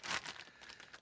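Plastic bag holding a Taurus TX22 pistol being handled, giving a short, close burst of crinkling and rustling that fades to softer crackles.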